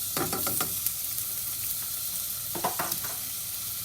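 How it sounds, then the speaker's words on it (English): Sliced onion fries in a pan over medium-high heat for green enchiladas, giving a continuous close sizzle and hiss broken by a few sharp scraping stirs. No one speaks. "So I'm gonna go ahead and cook the onion."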